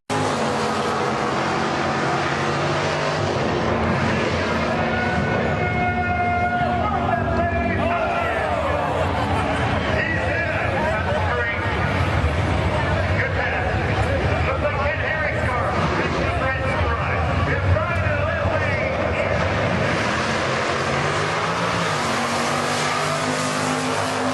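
A Firebird drag race car makes a run at Maple Grove Speedway, its loud, steady engine roar filling the whole stretch and rising and falling slightly, with voices talking over it.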